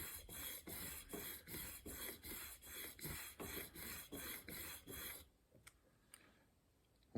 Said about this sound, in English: if I rub this on the stone and it takes that middle section away